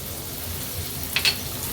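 Chopped onion, tomato and green chili cook in a pan for street-style Mumbai egg masala pav, giving a steady soft sizzle with a couple of brief brighter crackles near the end.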